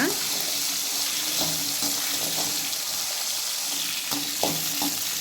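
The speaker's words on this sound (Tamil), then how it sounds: "வெங்காயத்தை நல்லா வதக்கிக்கோங்க." Small onions sauté in a pan for a manathakkali keerai chutney, giving a loud, continuous close sizzle with occasional scraping as they are stirred.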